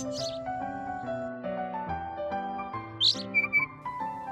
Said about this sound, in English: Mel, that's a mockingbird, said Papa.